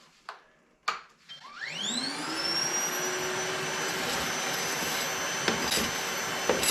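A Milwaukee M18 FUEL cordless backpack vacuum spins up from a few handling clicks into a loud, steady whine on its first setting, holding a constant rushing drone with an occasional knock near the end.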